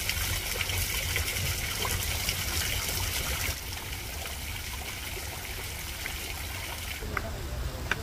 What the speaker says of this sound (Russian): фонтан, который находится в центре, называется «Свадьба Венеции с морем»